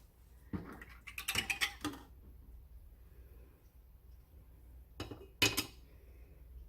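Metal canning jar rings grabbed in a kitchen during peach jam making, two quick bursts of clinking and rattling metal separated by a quiet pause.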